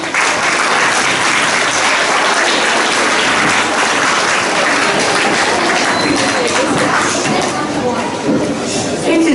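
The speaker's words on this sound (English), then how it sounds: "deserve a big round of applause" Audience applause at a middle-school inter-class elocution contest at St Joseph's College, Nainital: dense, loud, steady clapping from a large crowd that fills the whole stretch without a break.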